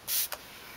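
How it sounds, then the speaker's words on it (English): Two quick hisses of Fix Plus setting spray onto a makeup brush, a longer close burst followed by a short second puff, then quiet. "what I like to do is spray the brush"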